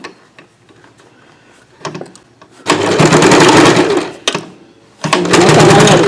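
An electric sewing machine stitches a frill sleeve on a chudi dress in bursts, a loud rapid mechanical whir running for over a second at a time, separated by quiet pauses and small clicks.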